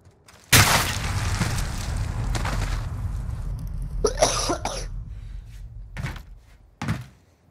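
A person coughs during an online Call of Duty: Modern Warfare match, with a few loud, close bursts: a long rough one near the start, then shorter hacks later.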